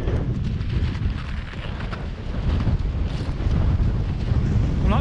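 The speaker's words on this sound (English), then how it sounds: "You can already hear the wind" Strong wind roars through a Mojave Desert mountain pass, a loud, constant rushing gust that buffets the microphone and swells slightly louder toward the end, with no voices.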